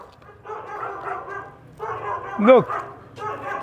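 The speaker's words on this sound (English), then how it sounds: "the dogs living here, some families of dogs living here." Dogs living in a bomb-damaged, abandoned house in Mosul, Iraq, give a short burst of nearby barking, one loud yelp standing out, while someone talks over them.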